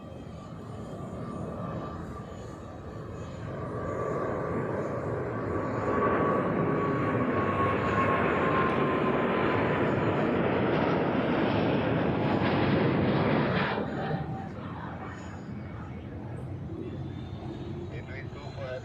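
An Edelweiss heavy jet airliner takes off at Zurich Airport with a broad engine roar that swells, peaks and then drops away sharply, while a person talks throughout.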